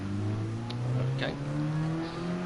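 A Red Bull junior race car engine held at full throttle with a steady, close, rising whine from the onboard position, running continuously without a break.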